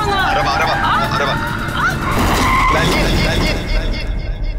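Car tires screech and skid loudly on the road just before a near collision, a sustained squeal with engine noise while people shout in alarm over it.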